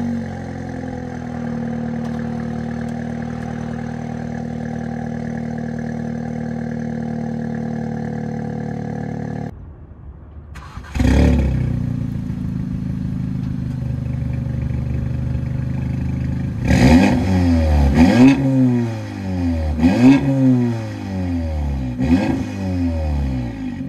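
An Audi S3 fitted with an ECS resonator delete exhaust idles with a steady drone, drops briefly, then revs hard several times in sharp, rising and falling bursts, loud and close, with no talking.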